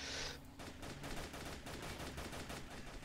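A tank main cannon fires in a video game battle, a sharp blast followed by dense rattling gunfire and explosions that fill the scene continuously and loudly, with no talking.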